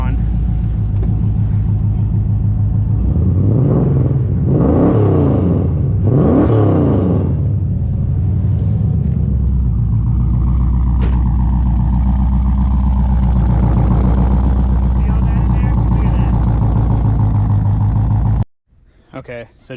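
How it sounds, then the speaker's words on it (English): A Nissan 350Z engine, running rough with a fuel problem, revs up close by in two or three rising and falling surges over a steady rumbling idle, then settles back to idle before cutting off. A voice talks intermittently over it. "I'm gonna rev it up."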